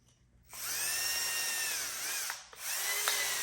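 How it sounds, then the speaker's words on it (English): Power drill boring a hole to mount a European skull, a close high whine that spins up sharply, runs steadily for nearly two seconds, dips briefly and then revs up again. "I'm gonna get my hole drilled here."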